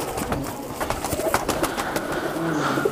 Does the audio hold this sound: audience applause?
no